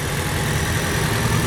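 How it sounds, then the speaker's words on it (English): A 2022 Ford Maverick Hybrid Lariat First Edition pickup idling, a steady even engine hum with a low drone, close by and uninterrupted for a brief stretch with no talking. "Engine sounds great."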